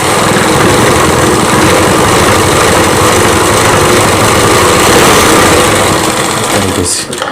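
Sewing machine running continuously and loudly while stitching Rajputi kanchali fabric, a steady dense mechanical whir that holds throughout and stops near the end.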